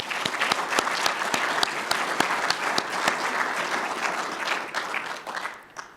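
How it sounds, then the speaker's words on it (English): A plenary-session audience applauds award recipients at a mining and metallurgy conference, a sustained full-room clapping with a few sharp, louder claps standing out, fading slightly at the end. "Let's have a round of applause for all these recipients."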